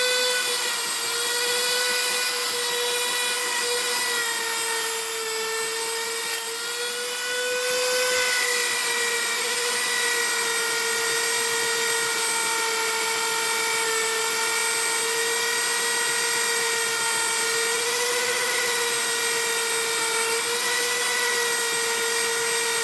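A polishing wheel buffs an M16A1 clone trigger, producing a steady, loud, high motorized whine that runs continuously with only slight wavering throughout.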